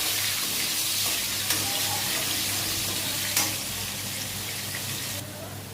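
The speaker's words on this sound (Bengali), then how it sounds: "তার জন্য দেখো হলুদ দিয়েছি, নুনও দিয়েছি, দিয়ে আলুটাকে ভালো করে ভেজে তুলে নেব।" Potatoes with turmeric and salt fry in oil, making a dense, even hiss that holds steady with a couple of faint clicks and drops off slightly near the end, with no one speaking.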